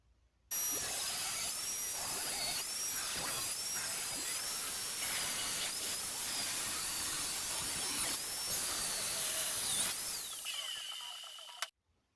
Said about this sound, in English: drill a hole in the middle and then put it over there and clamp it down